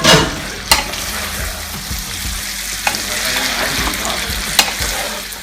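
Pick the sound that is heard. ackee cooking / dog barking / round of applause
ackee cooking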